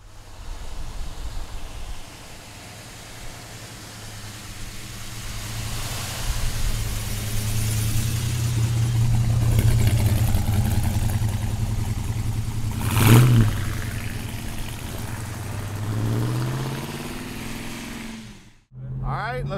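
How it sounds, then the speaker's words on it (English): A 1969 Dodge Superbee with a 440 V8 drives along, its engine a deep continuous rumble that swells as it accelerates, with a brief louder burst midway and road noise throughout, heard from nearby. "Let's go for a ride in the Superbee."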